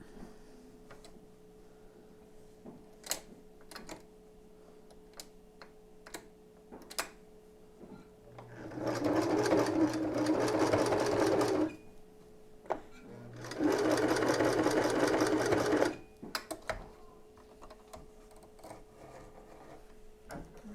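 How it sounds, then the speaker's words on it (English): Sewing machine stitching elastic onto a nursing bra strap: two sustained bursts of close, loud motor whirring, each several seconds long, separated by a short pause, with quiet ticks and handling clicks around them. "just sew that elastic to that bottom strap"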